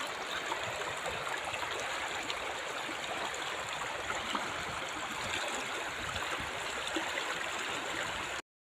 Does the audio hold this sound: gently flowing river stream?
yes